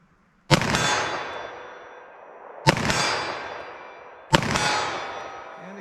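Three .357 SIG pistol shots ring on a steel target at 40 yards, each a sharp crack followed by a long metallic ringing decay, spaced about two seconds apart.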